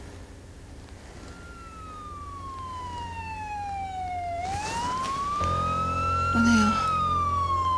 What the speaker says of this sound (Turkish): Bu polis mi?